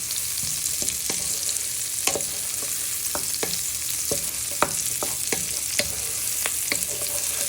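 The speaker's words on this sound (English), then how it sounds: "So at first we're just frying our shallot and garlic in with" Shallots and garlic sizzle with chorizo in a pan, a steady close frying hiss broken by repeated sharp clicks of a utensil stirring against the pan.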